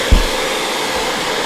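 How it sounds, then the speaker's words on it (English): A handheld blow dryer roars steadily at close range, a loud continuous rushing whoosh as it dries out a wet drone, with a small bump near the start. "Playing with a freaking blow dryer."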